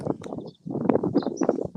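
Several horses shuffle and snort close by, with soft hoof thuds and rustling in a steady, busy jumble of sound.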